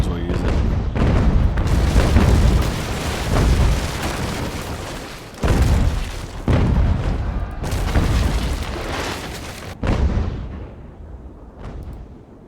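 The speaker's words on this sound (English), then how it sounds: "We're going to get a broadside. Might as well use it." Heavy ship cannons fire a broadside in the Ultimate Admiral: Age of Sail naval battle, a series of deep booming shots rolling one after another over about twelve seconds, loud and close, with some low rumbling between the blasts.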